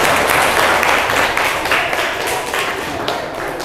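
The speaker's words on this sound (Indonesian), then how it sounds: "Aplaus buat kalian semua." A classroom of students breaks into applause, a dense burst of many hands clapping close by that gradually thins out.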